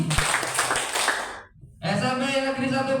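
An audience of teachers at SMPN 1 Paciran claps in a school clapping game, a short burst of claps that stops after about a second and a half. Then comes a brief pause and a voice speaking.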